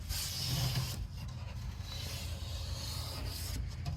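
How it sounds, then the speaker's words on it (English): A toothbrush scrubs inside a Toyota Yaris being built into a micro camper, a close, continuous rough rubbing rasp with brief pauses and no speech. "You can get in there real good and just kind of scrub it out."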